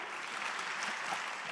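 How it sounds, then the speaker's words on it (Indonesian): Congregation at an Indonesian church sermon clapping together, a steady dense wash of many hands that stays even and fairly distant for the whole moment, with no talking over it. "Coba tepuk tangan yang mau di sana."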